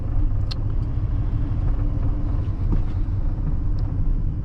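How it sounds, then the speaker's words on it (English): A 1994 Dodge Ram 1500 Laramie SLT engine idling at low RPM, heard from inside the cab as a steady, deep rumble with no talk over it. "The engine isn't too excessively loud in here, at low RPMs anyway."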